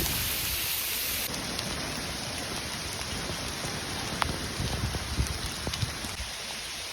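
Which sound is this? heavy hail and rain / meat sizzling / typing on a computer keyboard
heavy hail and rain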